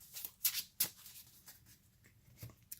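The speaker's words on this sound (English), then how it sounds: "And we'll give it a shuffle." A deck of trading cards for a Vanguard card game being shuffled by hand: soft, quiet papery riffles and flicks in short irregular bursts, close by, with no one talking.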